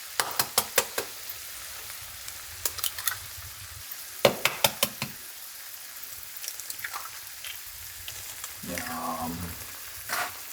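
Food sizzles in a frying pan, with bursts of crackling spatter and sharp pops over a soft hiss, and a brief voice near the end.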